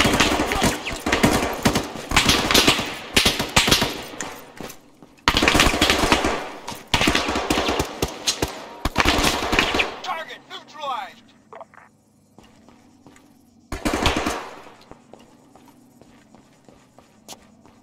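Machine gun fire in the military shooter ArmA 3, with loud rapid bursts packed through the first ten seconds, a short burst again later and quieter ambience in between, while voices talk over the action.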